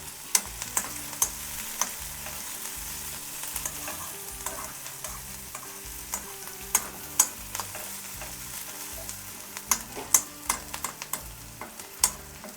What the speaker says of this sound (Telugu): కట్ చేసుకొని ఈ ఆయిల్లో ఫ్రై చేస్తున్నాను.